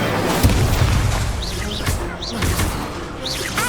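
Fiery Incendio spell effects cast in Hogwarts Legacy: repeated whooshing bursts with low booming thuds, mixed with bright chirping, swooping tones over a steady, busy game backdrop.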